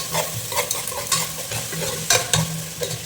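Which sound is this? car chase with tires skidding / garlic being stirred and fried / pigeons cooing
garlic being stirred and fried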